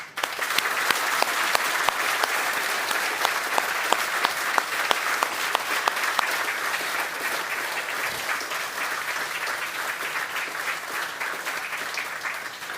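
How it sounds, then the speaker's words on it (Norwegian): Sustained applause from a large audience at a celebration marking two major oil field developments, dense overlapping claps holding steady and loud for the whole stretch before easing slightly near the end. "Jeg tror vi gjør en ordentlig stor applaus."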